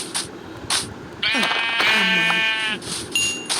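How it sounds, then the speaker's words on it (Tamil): Sheep bleat in a village within a Minecraft-style video game, a wavering harmonic call lasting over a second, with short game sound effects around it and no talk. "ஆடு ஆடு ஆடு பாப்பா செல்லக்குட்டி."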